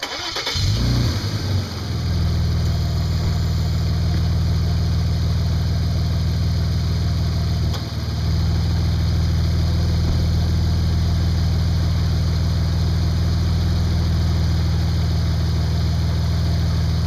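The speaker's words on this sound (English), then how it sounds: "This fan is running. You can hear the engine kick down," A 2002 Audi S4 engine starts and settles into a steady idle with the air-conditioning fan running, giving a constant close hum and whir with a brief dip in engine note midway.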